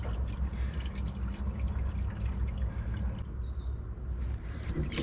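Water pours steadily into a boat hull being filled for a bilge pump test, a continuous splashing rush with trickles and drips, close and fairly loud, running alone without talk.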